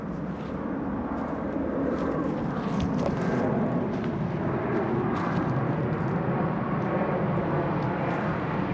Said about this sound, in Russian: О, самолет летит.